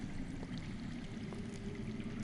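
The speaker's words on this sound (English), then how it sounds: "I hear water. From underground." A steady, faint rush of underground running water in a Game of Thrones video game, a continuous low pouring wash with no breaks and no speech.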